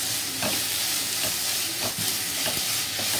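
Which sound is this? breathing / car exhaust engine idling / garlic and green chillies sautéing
garlic and green chillies sautéing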